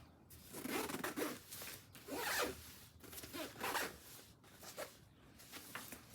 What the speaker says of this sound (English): So I'm going to zip it up.